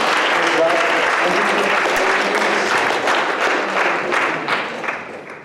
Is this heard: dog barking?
no